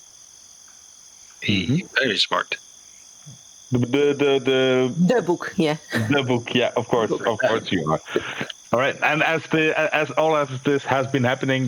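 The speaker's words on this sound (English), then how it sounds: "You hear some crickets chirping in the background." Crickets chirp steadily at night as a constant high, thin trill running beneath close conversational speech throughout, with a short quiet stretch near the start where the chirping is heard alone.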